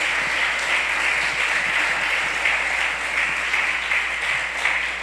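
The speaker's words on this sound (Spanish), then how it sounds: "si quiere aplaudir, aplauda también. Aplauda a Dios." A church congregation claps in a dense, steady wash of applause that holds at an even level throughout, with no distinct voices standing out.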